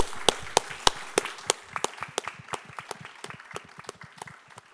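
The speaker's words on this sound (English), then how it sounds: "I think that all of us here would just like to give you a huge round of applause." An audience claps for presenters at a justice-themed showcase, starting with loud distinct claps that thin into scattered, quieter clapping over about five seconds.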